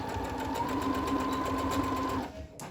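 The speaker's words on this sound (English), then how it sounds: "Sewing right to the end." A sewing machine stitches tote bag fabric to the end of a seam with a steady, close mechanical whir that stops abruptly just before the clip ends, with no talk.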